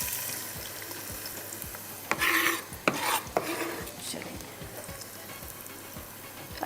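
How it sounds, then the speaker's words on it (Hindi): Onions frying in oil in a pan over a high flame, giving a steady close sizzle. A few louder bursts of stirring and scraping come midway. "प्याज को अच्छे से फ्राई करेंगे"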